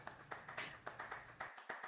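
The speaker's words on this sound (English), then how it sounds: "Thank you very much for all the clapping." Audience clapping at a live presentation, a run of sharp, fairly close hand claps in an uneven rhythm that briefly thins out near the end.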